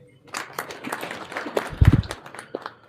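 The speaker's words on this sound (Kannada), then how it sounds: "ಈ ಜಾತ್ರೆ ನಡೆಸ್ಕೊಟ್ಟಿರ್ತಕ್ಕಂಥ ಪೊಲೀಸ್ ಇಲಾಖೆಗೆ ನನ್ನ ಕಡೆಯಿಂದ ಒಂದು ಚಪ್ಪಾಳೆ." A crowd at a temple chariot festival planning meeting gives a short, scattered round of hand clapping that swells briefly and fades within a few seconds.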